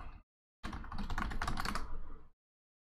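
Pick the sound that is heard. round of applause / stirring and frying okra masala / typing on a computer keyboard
typing on a computer keyboard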